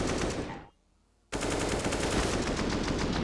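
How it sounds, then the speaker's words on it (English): Slowed-down AK rifle fire from a Counter-Strike match, a dense, continuous roaring burst that cuts out briefly into silence, then resumes at full loudness. "The slowed down AK sound, one of my faves."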